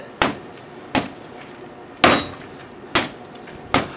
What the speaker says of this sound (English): I should have got a bigger hammer.